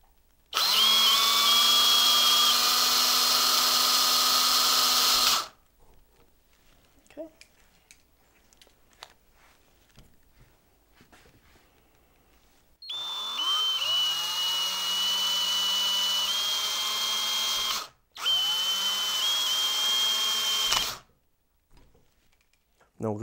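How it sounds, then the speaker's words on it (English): Electric drill boring holes in PVC pipe held in a vise, three loud whining bursts of several seconds each with speed changes, separated by quiet gaps with faint handling noises. "So now we will set up our vise and we will go ahead and drill those holes."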